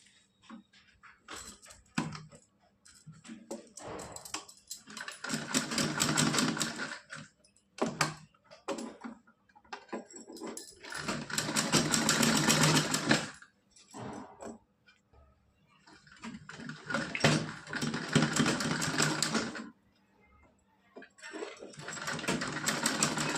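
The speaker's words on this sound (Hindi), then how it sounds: "यहाँ से सिलाई लगाएंगे इस तरह से, यहाँ पे गुलाई करके लगा लेंगे सिलाई को।" Sewing machine stitching a small dhoti-kurta dress for a Laddu Gopal idol, bursts of rapid mechanical whirring that start and stop several times with short quiet pauses between runs, close by.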